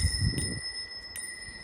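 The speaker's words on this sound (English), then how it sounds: "this is what we consider our doorbell." A bell serving as a porch doorbell rings twice, giving short bright metallic dings about a second apart. It is faint and close, with soft garden ambience around it.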